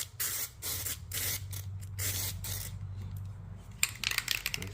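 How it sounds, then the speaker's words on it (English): Aerosol primer hisses from a spray can onto welded steel feet for a milling machine in repeated short bursts, close and loud, followed by a few light metallic clicks and taps. "I'm just gonna give them a little shot of primer to keep them from rusting long term."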